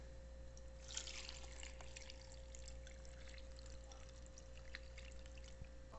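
Water pours into a blender jar already holding kale leaves and mint for a green juice. The splash is soft and fairly close, trickling on with no talk over a steady electrical hum.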